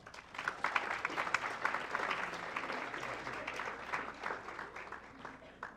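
Audience applause for Mike Dunbar at a scholarship program event, a quiet, somewhat distant crowd clapping with uneven swells that keeps going for several seconds.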